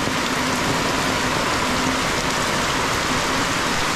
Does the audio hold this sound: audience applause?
no